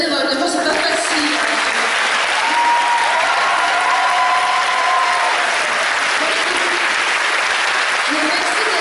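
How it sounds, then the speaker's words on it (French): Audience at a Sunday cosplay workshop at the Anim'est 2014 convention breaks into sustained applause for the cosplayers, a dense wash of clapping that holds steady for about nine seconds with faint voices mixed in. "je vous demande de les applaudir"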